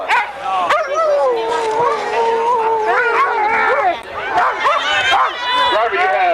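A three-dog sled team arrives at a race finish, with dogs yipping, whining and barking excitedly over continuous crowd noise and voices from the finish area.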